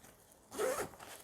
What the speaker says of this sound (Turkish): fermuarı kapatıyorsunuz.